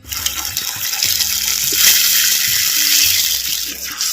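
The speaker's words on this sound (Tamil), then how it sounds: "இப்போ வந்து தேங்காய் பாலை நம்ம ஊற்றிக்கிட்டுருவோம்" Coconut milk poured into a sardine fish curry cooking in a pan, a steady close liquid pour and gush with light sizzling underneath, no talk.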